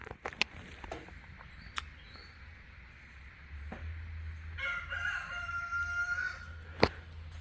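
A pet rooster called Jack crows on a humid morning, a loud drawn-out call rising midway through, with scattered clicks and a low background hum around it.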